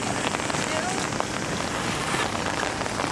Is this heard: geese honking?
no